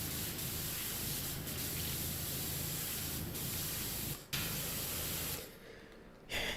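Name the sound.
pressure washer nozzle spraying, from video game Powerwash Simulator 2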